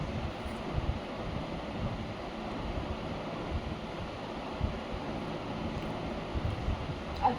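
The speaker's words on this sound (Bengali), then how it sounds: "আজকে কিন্তু খুব হাওয়া আছে" Strong wind blowing across a home rooftop with the roof door open, a steady soft rushing and buffeting that stays low and continuous.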